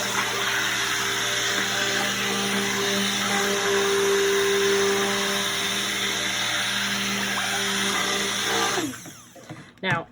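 A handheld stick blender whirs loudly and continuously, mixing soap batter at close range for several seconds before cutting off abruptly near the end.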